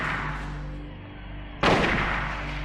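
A rifle gunshot from the survival horror video game Silent Hill cracks out loud and sudden partway through, its broad blast ringing out over a low, steady droning game ambience.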